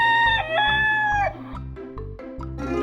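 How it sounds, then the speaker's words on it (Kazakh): A rooster crows in a children's animal quiz, a loud, drawn-out cock-a-doodle-doo followed by several shorter calls with a steady low tone underneath and no talking. "Дұрыс, әтеш."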